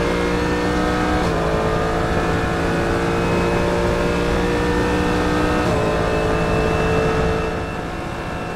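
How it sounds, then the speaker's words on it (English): Mercedes-AMG GT3 race car lapping Virginia International Raceway at speed, a loud sustained engine roar from onboard with two quick gear shifts and a slight easing of the note near the end. "The S's are almost flat in this Mercedes-AMG GT3, but it's a blast to drive."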